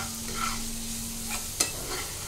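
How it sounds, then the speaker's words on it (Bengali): Onion, garlic and chili frying in a pan with salt and turmeric, a steady close sizzle with light stirring scrapes and one sharp clink of a utensil against the pan. "এবার এটা আমি ভালো করে ভেজে নেব।"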